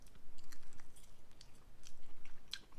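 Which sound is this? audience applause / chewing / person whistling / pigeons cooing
chewing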